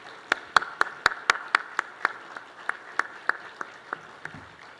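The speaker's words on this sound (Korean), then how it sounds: "우리 뜨거운 박수로 모시겠습니다" A church congregation at a New Year special dawn revival service claps to welcome the pastor, a sparse, rhythmic run of distinct sharp claps in a unison beat that slows and fades out.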